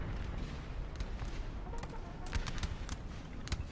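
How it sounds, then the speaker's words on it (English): Scattered musket shots from a Napoleonic-era battle in Napoleon Total War, a string of sharp cracks going off irregularly, some near and some farther off, over a steady rumbling din of battlefield noise. "Let's have a volley, boys."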